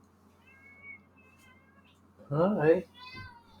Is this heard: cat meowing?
yes